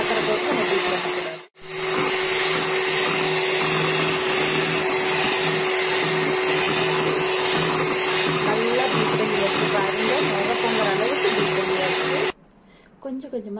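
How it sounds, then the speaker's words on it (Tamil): Electric hand mixer beating sugar into cake batter, a steady loud whirring drone that briefly cuts out near the start and then stops near the end. "கொஞ்சம் கொஞ்சமாக சர்க்கரை போட்டு நல்லா பீட் பண்ணியாச்சு"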